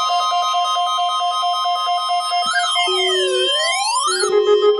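NOAA weather radio emergency alert test: a loud, steady multi-tone alarm that holds for a few seconds, then sweeps down and back up in pitch before settling into a lower steady tone, with no talk over it.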